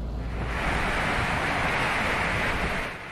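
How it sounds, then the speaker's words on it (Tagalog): Strong typhoon wind roars in a dense, continuous rush through trees in Camarines Sur, Philippines, buffeting loudly and steadily without letting up. "winasiwas ng malakas na hangin ang mga puno sa Camarines Sur"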